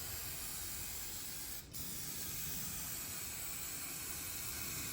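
Spray paint can hissing in a steady, quiet, continuous spray with one brief break partway through, close by and with no talk over it.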